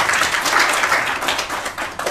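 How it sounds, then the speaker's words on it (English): A crowd at a dinner discussion event claps together in a steady, dense wash of applause that holds for the full two seconds with no voices. "So we need to give you a round of applause too."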